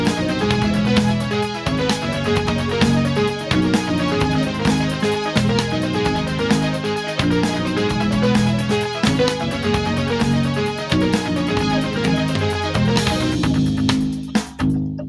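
Pinball remix track built in FL Studio with the FL Keys XYL preset, a busy xylophone-like melody over a steady beat that runs continuously and thins out near the end, with no talk.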